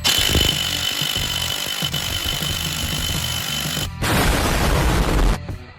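A 5/8 socket tool works on the front pulley of a race mower engine, a steady close mechanical whirr with scattered knocks that swells into a louder, harsher burst near the end before cutting off.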